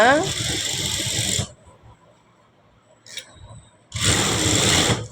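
A sewing machine stitches a blouse belt in two loud, close bursts of rapid whirring at the start and end, separated by a quiet gap with a brief click.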